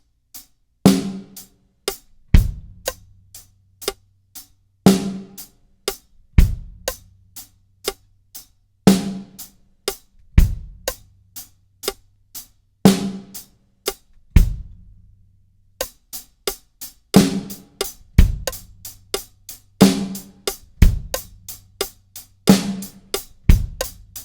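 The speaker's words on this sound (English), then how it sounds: "now that the bass drum is on the and of beat 4, it would sound like this" A drum kit plays a steady groove with hi-hat or cymbal strikes, snare backbeats and a bass drum moved to the and of beat 4, repeating evenly and played loud and close with no voices.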